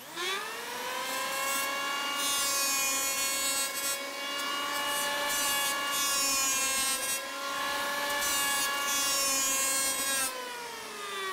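A power planer shaves a wooden timber to fit a V-bottom skiff, giving a loud, steady whining roar that holds for about eleven seconds, with slight dips as the cut changes.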